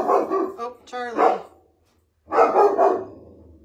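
A dog barks in bursts, a few close, loud yaps and woofs with a pause between, while a voice talks nearby.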